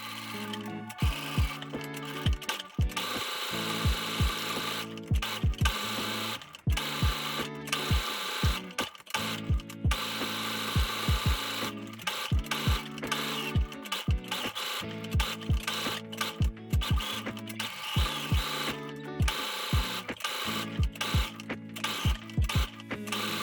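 A domestic sewing machine stitching an appliqué patch close to its edge, running in short rapid bursts of mechanical whirring and clatter separated by brief pauses, near and fairly loud with no speech.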